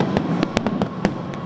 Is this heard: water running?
no